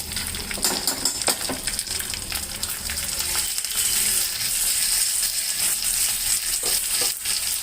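Garlic sizzles in a homemade ghee tempering, a dense crackling fry with scattered clicks and scrapes that grows steadier and fuller halfway through.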